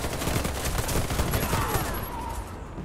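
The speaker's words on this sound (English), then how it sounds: "Warface is caught in a bombardment" Artillery bombardment in the Warface shooter on Nintendo Switch, a dense continuous roar of rumbling blasts and crackling fire, loud and close throughout, thinning slightly toward the end.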